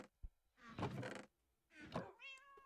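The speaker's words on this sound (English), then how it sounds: "The cat sound is that in Minecraft?" Cat meows from the video game Minecraft, two drawn-out meows separated by a short pause, clear and close, with a small thunk at the start.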